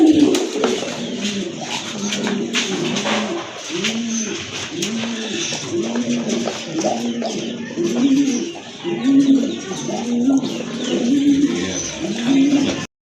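Danish pigeons kept for sale coo close by in a steady series of repeated low, rolling calls, several birds overlapping in a rhythmic pattern with no talk over them.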